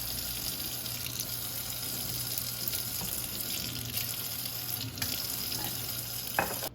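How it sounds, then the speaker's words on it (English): Tap water pouring into a container, a steady close rushing splash at constant strength that runs the whole span and cuts off right at the end, with no talk. "You don't need to fill up the whole thing with water."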